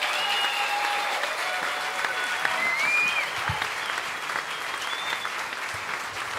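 An audience applauds at the close of a climate change talk, with sustained, dense clapping filling the room and a few voices calling out over it.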